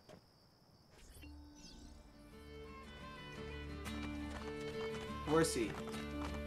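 Horse hooves clip-clop softly in Assassin's Creed Brotherhood, a steady trotting rhythm over game ambience with crickets, while someone speaks over it.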